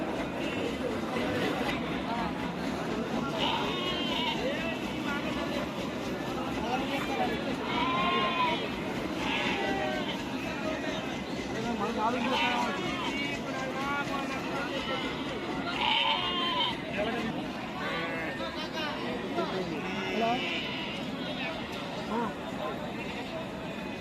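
Sheep and goats bleat repeatedly at a busy animal market, with overlapping calls near and far over constant crowd chatter and people talking throughout.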